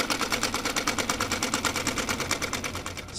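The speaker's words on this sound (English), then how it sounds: "the sound of a sewing machine came from the second floor" A sewing machine runs steadily and fast on an upper floor of an old house, a continuous rapid mechanical pulse like a needle punching through fabric, loud and close with no voices.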